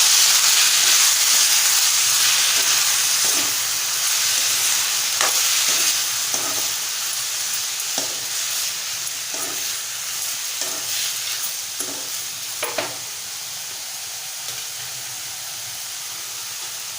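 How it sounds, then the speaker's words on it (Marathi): Chopped ivy gourd and potato sautéing in a pan for a Malvani-style dry tondli bhaji make a close, continuous sizzle. Regular scrapes and knocks from stirring sound over it, and the sizzle gradually softens with no speech. "छान परतवून घेऊया।"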